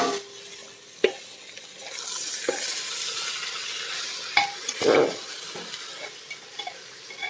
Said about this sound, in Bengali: এবার চালটা দিয়ে সুন্দর করে একটু বেশ কষানো হবে